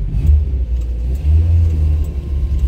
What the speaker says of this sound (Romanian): Merge frumos motorul ăla care tocmai l-am pus.